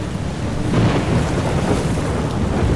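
Steady rain with a low rumbling roll of thunder in a stormy outdoor scene in the video game Uncharted 4, a continuous broadband wash that swells slightly partway through, with no voices.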